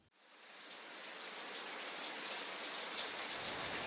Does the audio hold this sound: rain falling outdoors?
yes